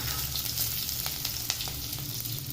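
Onion, garlic and ginger fry in oil for a Chettinad brinjal kara kuzhambu, giving a steady close sizzle dotted with small crackles and pops.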